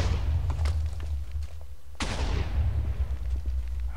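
Explosions in the video game Chronotide, set on University Street: a sharp blast strikes midway, followed by a rumbling low boom and scattered smaller cracks, loud and alone with no voices.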